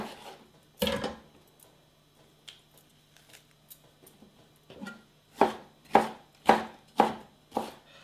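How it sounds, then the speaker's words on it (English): Knife chopping red onion and red pepper roughly on a board, a few scattered cuts followed by a steady run of five or six firm, evenly spaced chops growing louder, with no talking. "put in half a red onion, just chop it roughly and pop that in. A bit of red pepper."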